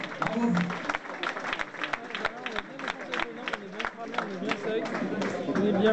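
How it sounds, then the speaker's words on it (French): Crowd clapping for jersey holders on the podium at a cycling event, the Lozérienne 2022, with brisk scattered claps and cheering close by, mixed with chatter and voices over the applause. "Des applaudissements pour nos porteurs de maillot."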